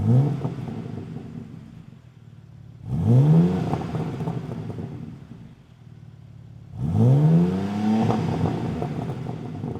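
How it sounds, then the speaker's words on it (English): A 2023 BMW M3 Competition Jahre Edition with a 503-horsepower engine starting cold, heard as a loud, close rising rev, then a settling idle, then a second rev flare and a fast high idle. "Let's go ahead and get a cold start of this thing so you can hear that 503 horsepower motor."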